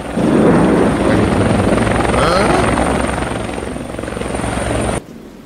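A helicopter roars close and loud in a steady, rotor-thrumming wash of engine noise, then cuts off abruptly near the end.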